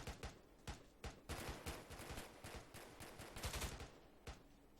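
Rapid bursts of gunfire and scattered single shots from enemy fighters in a tactical military shooter game, loud and echoing, firing in uneven clusters with no talk over them.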